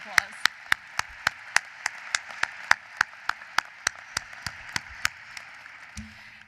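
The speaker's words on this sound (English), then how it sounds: "you deserve more rounds of applause" Applause breaks out at a Boston College Law School commencement, a sharp steady beat of claps, close and regular, over a quiet background, fading near the end.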